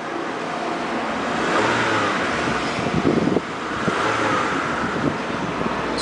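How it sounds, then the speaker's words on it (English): A 2000 Honda Civic EX coupe with a four-cylinder VTEC engine runs steadily, its mid-pitched engine tone swelling slightly as it revs, close and fairly loud with no talking. "Strong little four-cylinder V-TEC engine."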